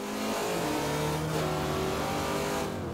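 A 2015 Corvette Z06 V8 engine in a video game roars steadily as it revs up through the gears, loud and close, with a deep throaty tone throughout.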